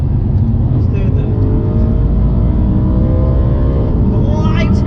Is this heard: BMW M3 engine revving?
yes